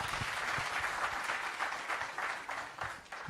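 An audience at a book discussion event claps for a few seconds, a dense, even patter of many hands with no voices over it.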